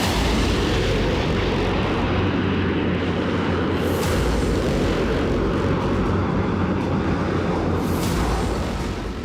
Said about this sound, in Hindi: फाइटर जेट मंडराने लगे।